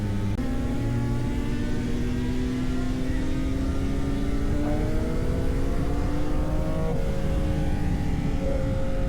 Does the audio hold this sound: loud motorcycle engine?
yes